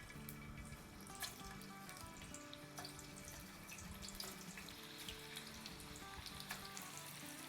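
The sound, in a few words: potato tater tots frying in hot oil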